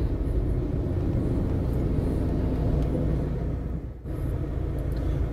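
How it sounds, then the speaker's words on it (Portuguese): A steady, low rumbling drone of a helicopter overhead in the Santos Reis neighbourhood of Parnamirim, with a brief dip partway through before the engine noise continues. "O helicóptero passando aqui por cima."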